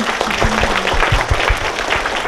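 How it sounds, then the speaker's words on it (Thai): Audience applause in a lecture hall after a talk, a steady dense patter of clapping holding at even loudness throughout, with a low hum beneath and no speech. "เราปรบมือให้ท่านอีกครั้งหนึ่งได้ไหมคะ"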